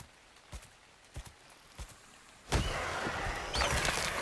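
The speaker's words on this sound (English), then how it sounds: "luckily for us, it's raining" Rain falls in the video game Ark: Survival Evolved, starting with a few faint scattered thuds and then swelling into a steady hiss of downpour partway through.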